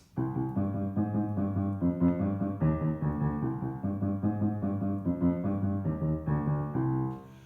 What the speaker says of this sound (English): If that were in a minor or Aeolian mode